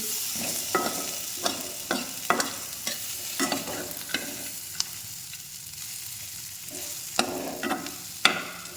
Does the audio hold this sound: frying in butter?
yes